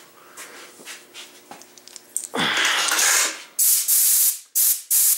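A shop air hose blows compressed air in loud, steady hissing blasts: one long rush followed by several shorter bursts, close by, with quieter handling noises before it starts.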